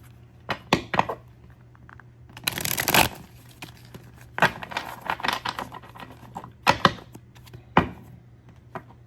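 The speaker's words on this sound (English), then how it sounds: "And we're going to do one more shuffle." A tarot deck is shuffled by hand in quick clusters of crisp riffling and tapping, close and clear, separated by short pauses, with one longer dense riffle burst near the start.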